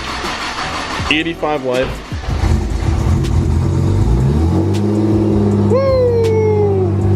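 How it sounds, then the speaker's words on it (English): A 2020 Ford Mustang GT cold-starts with a loud engine catch and settles into a steady, throaty idle. A rising whine follows near the end, and people cheer and talk over the engine at the start. "let's go. Cold start."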